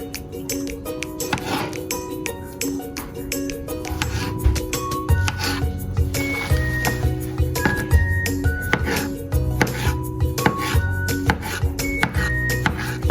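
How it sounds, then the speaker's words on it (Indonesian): Knife on a cutting board dicing dragon fruit into small pieces, quick repeated taps in an uneven rhythm, close and clear, with faint glassy clinks and background music. "Sama buah naganya juga kita potong menjadi potongan kecil-kecil."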